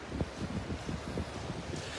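Gentle wind buffets the microphone in soft, uneven gusts, with a faint wash of surf beneath, on Delnor-Wiggins beach.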